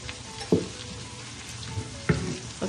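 Potatoes for a sweet potato hash fry in a pan with a steady, close sizzle. Two sharp stirring knocks land about a second and a half apart, with no voices.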